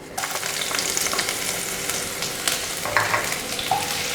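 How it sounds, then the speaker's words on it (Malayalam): Red shallots fry in hot oil in a pan, a close, steady crackling sizzle with a few light clicks of stirring and no talking. "കൂടെ തന്നെ എടുത്തു വെച്ചിരിക്കുന്ന ചുവന്നുള്ളി ഇട്ട് കൊടുക്കാം."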